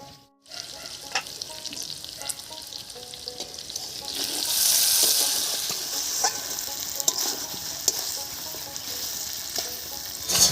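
Spicy pigeon meat curry fries in oil in a pan once the lid comes off, with a steady sizzle that swells into a loud hiss and stirring scrapes, and no voices.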